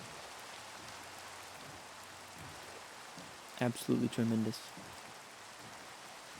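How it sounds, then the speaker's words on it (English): Steady soft rain hiss in Minecraft runs throughout, with a man's brief spoken remark breaking in near the middle. "And rain."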